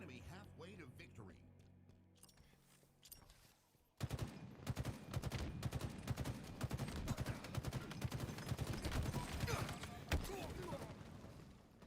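Rapid Halo gunfire on Xbox Live erupts loudly after a quieter opening, with dense bursts of shots continuing steadily to the end while voices talk over the action.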